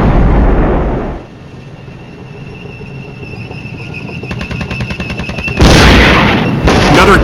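Artillery fire in the Flashpoint Campaigns war game, a heavy boom that rumbles off, followed by a quieter rattling stretch, then more loud blasts near the end.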